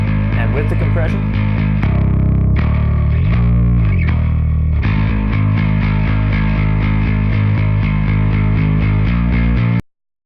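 Bass guitar from Faith & Gold's "I Need Mana" run through a CLA-3A optical compressor, slightly saturated and gritty, playing a dense, loud, sustained low line that stops abruptly at the end, with no talk.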